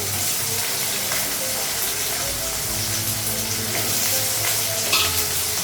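Potato and onion fry in a pan with a dense, steady hiss and crackle that holds at a constant loud level, sounding much like running water, without talking.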